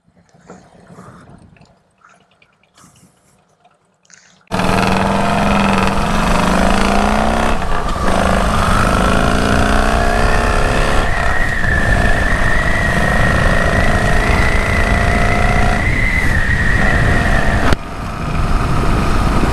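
A Harley-Davidson Road King motorcycle engine runs loud and close on the road after a few quiet seconds, a deep steady rumble with rising and falling throttle and wind roar, ending in a short break.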